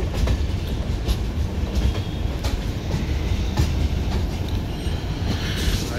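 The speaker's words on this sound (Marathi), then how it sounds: "हे आपलं भुसावळ स्टेशन आणि आपली ट्रेन लागलेली आहे स्टेशनला." A passenger train on a Mumbai to Puri run stands at the Bhusawal station platform. Its deep continuous rumble and mechanical hum are loud and steady throughout, with faint intermittent clanks and hiss above.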